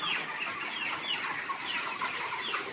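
Chickens on a poultry farm cluck and chatter continuously, several birds overlapping at moderate distance, with no talk over them.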